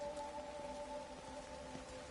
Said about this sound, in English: Man, it is raining hard.